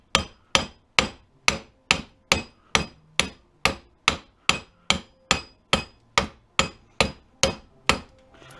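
Metal hammer striking a part held in a vise while scrapping a Sharp Carousel microwave oven, about sixteen sharp, evenly spaced taps ringing out close and loud with no talk.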